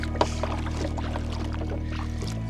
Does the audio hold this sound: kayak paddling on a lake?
yes